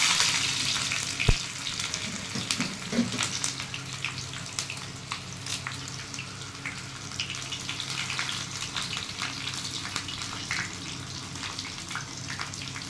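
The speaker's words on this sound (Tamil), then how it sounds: "சின்ன வெங்காயம் வெட்டி வச்சுருக்கேன். சின்ன வெங்காயம் போடுறேன்." Small shallots sizzle in hot oil in a pan while paasi paruppu sambar is being made, giving a steady soft crackle close by with a brief clatter early on, and no talking.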